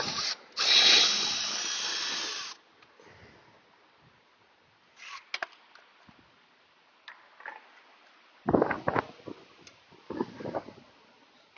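A ratchet wrench works a 13 mm nut on the AC line block of a 2019 Ford Escape, giving scattered clicking bursts after an early loud broadband rush, close and fairly quiet.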